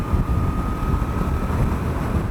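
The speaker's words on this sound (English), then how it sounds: "it's windy as hell" Steady, loud wind roar buffets the microphone while a Triumph Scrambler 1200 XE cruises at 70 mph on a windy day, a dense unbroken rush with a faint engine hum beneath.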